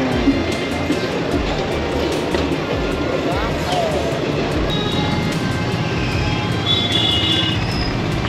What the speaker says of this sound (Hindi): सामने जा रही है ट्रेन और ये ट्रेन त्रिवेणी एक्सप्रेस है।